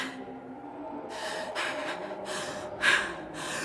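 A character gasps for breath in the Batman: The Enemy Within video game, a run of short, sharp, close gasps over a steady low background hum, with no talking.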